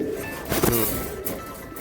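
A pigeon at a market stall gives a short, close, throaty coo with a rolling rise and fall, over faint background noise.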